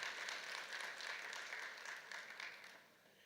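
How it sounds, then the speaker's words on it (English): A conference audience at a high-level opening session gives a round of applause, a dense steady wash of many hands clapping that fades gently toward the end, with no talk over it. "A round of applause."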